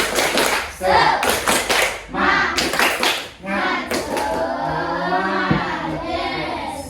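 A primary school class of children does a rhythmic chant-and-clap routine, sharp bursts of hand claps in a patterned beat mixed with young voices calling along, close and lively in a classroom.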